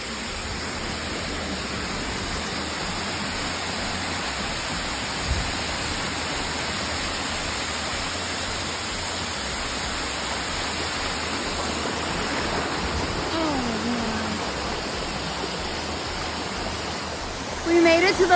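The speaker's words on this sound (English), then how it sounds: "We made it to the last waterfall." The Ng Tung Chai waterfall roars in a dense, steady white rush heard up close, unbroken throughout, with a soft thump near the end.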